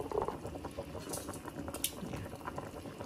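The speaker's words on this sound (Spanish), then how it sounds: "ya está hirviendo." A pot of water with chiles bubbles at a steady boil while pork is cooked for frito de puerco, producing a soft, continuous, faint bubbling with small pops.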